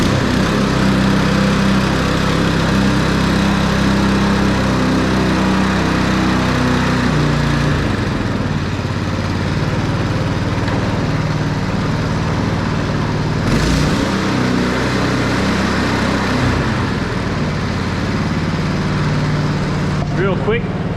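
Lawn mower with a broken governor arm spring running continuously, a loud, close engine drone whose pitch drops and shifts partway through, with occasional clunks and a person talking over it.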